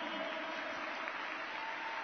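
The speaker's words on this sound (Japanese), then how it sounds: "中村直史選手に今一度大きな拍手をお送りください。" A large stadium crowd applauds a retiring Nagoya Grampus footballer at the 2014 home-season final ceremony, a dense, steady wash of clapping that carries on without a break.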